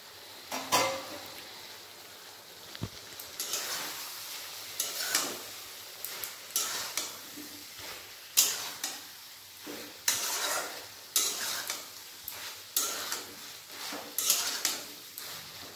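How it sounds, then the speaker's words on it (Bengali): Fried bitter gourd is stirred into a mustard curry in a pan, with repeated spoon scrapes and clatter against the metal over a low sizzle. The strokes come in an uneven rhythm and are heard close, with no talking. "এরপর এর মধ্যে দিয়ে দেবো ভেজে রাখা করলা।"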